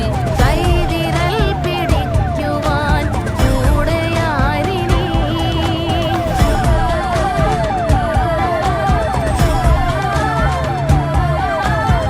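An ambulance siren wails loudly and close on a congested road in Thrissur, Kerala, its rising and falling sweeps repeating for twelve seconds over traffic noise and horns.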